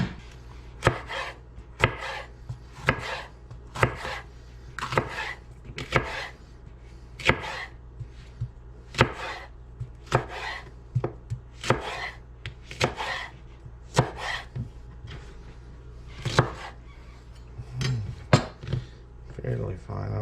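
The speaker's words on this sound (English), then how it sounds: "So I'm gonna do a little bit of yellow pepper." A knife chops yellow pepper into long thin julienne strips on a board, a steady run of sharp, close taps over about twenty seconds with brief pauses, the sounds of backcountry pad thai preparation.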